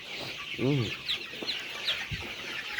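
Rooster and hens in a farmyard, with one loud, close cluck followed by softer scattered clucks and short chirpy calls over quiet background noise.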